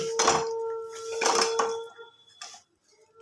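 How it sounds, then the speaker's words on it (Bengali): Pieces of fried chicken are tipped from a utensil into a cooking pan of fried spices, giving three clattering metallic bursts of pan and spoon contact, close and distinct, with brief quiet gaps between them. "এবার দিয়ে দেবো ভেজে রাখা চিকেন"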